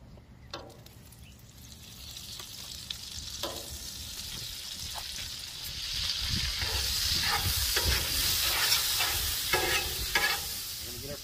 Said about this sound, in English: I am gonna use some Kinlock pecan oil on my grate to do these fish. So I'm gonna get some oil down, and I'm gonna get some butter down.